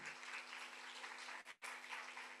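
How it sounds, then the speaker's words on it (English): An audience claps together at a hair care training session, a dense steady patter of applause that breaks off briefly near the middle and then picks back up. "Give them a round of applause."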